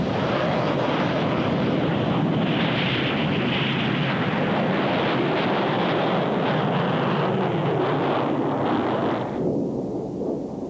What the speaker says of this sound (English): the last generation of Yakovlev fighters was about to be launched. All first flights are conservative, and this one began in short takeoff mode.